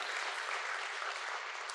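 Steady, dense audience applause fills a public hearing hall, a continuous wash of many hands clapping at an even level with no voices over it.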